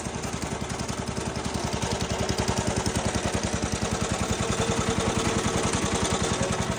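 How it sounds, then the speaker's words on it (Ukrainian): An engine runs steadily after starting in warm weather, a loud close rhythmic chugging with rapid even pulses that holds a constant pace throughout. "Ну, заводиться. Коли тепло, як зараз, заводиться хорошо."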